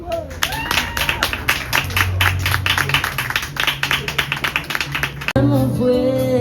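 A crowd at a book fair in Saint-Paul applauds a singer's entrance with loud, rhythmic clapping in a steady beat, voices calling out over it, before it cuts off abruptly and singing begins.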